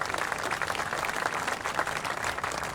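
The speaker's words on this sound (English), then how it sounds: "Let's give the Congressman another round of applause" Audience applause for a congressman at a dignitaries' celebration of the upcoming Buck O'Neil bridge opening in Kansas City, a steady, dense wash of clapping from a sizable crowd.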